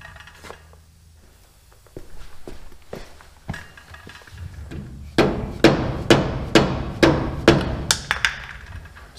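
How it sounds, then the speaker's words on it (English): A dead blow hammer strikes a trailer wheel hub repeatedly while removing the dust cap, around seven evenly spaced heavy blows, close and loud, after a few lighter knocks. "Just a dead blow hammer."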